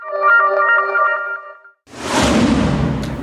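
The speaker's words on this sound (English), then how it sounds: "That's the sound of the doors of the titty twister opening." The doors of the Titty Twister bar from From Dusk Till Dawn open: a loud, drawn-out creaking, groaning tone gives way after a brief gap to a broad, rumbling whoosh with a faint high ping near the end.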